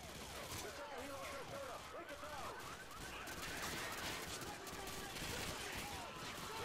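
Rapid bursts of automatic gunfire in Call of Duty: Modern Warfare 2 fill the clip, loud and continuous with overlapping shots and battle noise.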